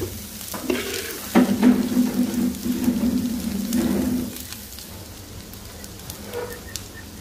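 Bitter gourd (karela) frying in a pan, a close steady sizzle with stirring scrapes, louder for a few seconds and then settling into a quieter hiss.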